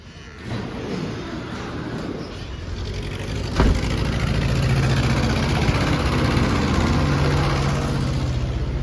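An old narrow front end tractor engine, needing a lot of work, runs with a steady low rumble close by, a brief knock partway through before it settles into a slightly louder, even idle.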